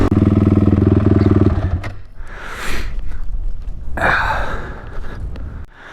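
An ATV quad engine runs loud and steady up close for about a second and a half, then cuts out, followed by rustling, clatter and breathy handling noise as the rider pulls over.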